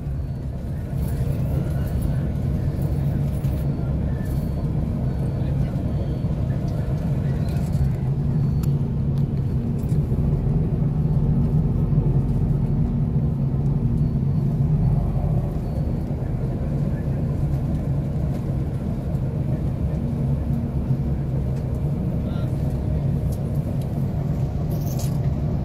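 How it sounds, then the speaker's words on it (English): A low, steady engine rumble with road noise fills the inside of a moving bus on a bumpy ride, continuous and loud throughout, with faint talk in the background. "Shaky footage, I'm on the bus"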